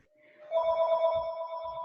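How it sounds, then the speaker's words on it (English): A telephone rings with a sustained electronic bell tone that starts half a second in and carries on to the end, fairly close and clear, with a little background murmur beneath it. "oh, the phone's ringing."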